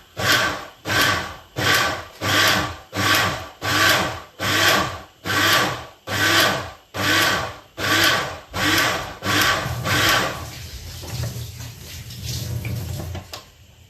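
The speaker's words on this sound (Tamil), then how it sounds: "Blend it in brief bursts to avoid it getting splashed out." A kitchen blender pulses in short, regular bursts, about a dozen on-off cycles roughly a second apart, then runs continuously toward the end; loud and close, with no talk.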